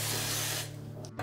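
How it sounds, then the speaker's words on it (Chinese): A short, steady hiss of oil spray mists a dough proofing bowl, close and fairly soft, fading after about half a second. "发酵盆喷点油防粘"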